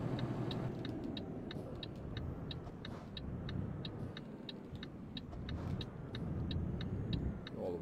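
In Euro Truck Simulator 2, a heavy-haul truck carrying a 55-tonne mobile crane makes a constant, muffled engine drone while braking through a turn. A steady, rhythmic ticking runs throughout and no one speaks.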